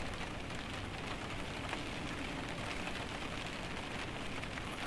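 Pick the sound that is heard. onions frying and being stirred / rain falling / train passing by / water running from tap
rain falling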